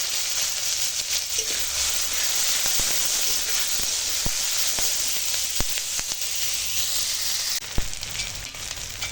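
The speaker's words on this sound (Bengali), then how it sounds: "পেঁয়াজ কাঁচা লঙ্কা একসঙ্গে ভালো করে ভেজে নেব" Onion and green chilli frying together in hot oil, a steady dense sizzle with scattered crackles and pops throughout, close and continuous with no talking.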